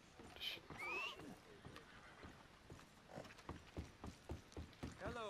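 In the video game Red Dead Redemption 2 Online, a horse whinnies loudly near the start, followed by a steady clip-clop of hooves that quickens into a run, with some background talk.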